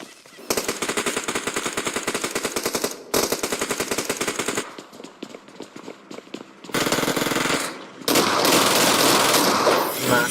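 Rapid-fire gunshots from the PUBG battle game ring out in long dense bursts, loud and close, with short pauses between volleys and a heavier continuous blast of fire near the end.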